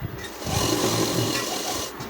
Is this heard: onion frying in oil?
no